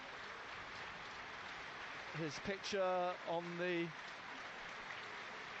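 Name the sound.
stadium crowd applauding at football match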